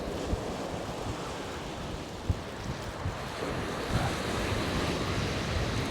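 Onshore wind and breaking surf on Chesil Beach, a continuous loud rushing wash with wind buffeting the microphone and a few faint knocks over it.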